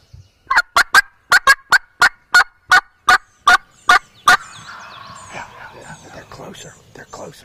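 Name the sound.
wild turkey gobbling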